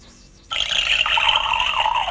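Water pours from a toy kettle that can make real steam, starting suddenly as a bright, steady trickling stream close by after a brief quiet moment.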